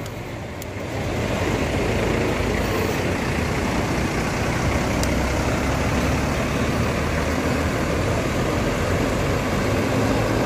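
A Kalisto premium intercity bus pulls away from a busy terminal, its engine a steady, loud diesel rumble that holds for several seconds amid general terminal traffic noise.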